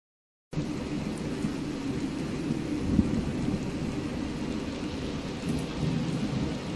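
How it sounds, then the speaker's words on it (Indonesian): Minecraft rainstorm in a survival game, steady hiss of rain filling the scene after a brief silent start, with a low rolling thunder rumble and one sharp crack near the middle. "Dimana di sini posisinya lagi hujan."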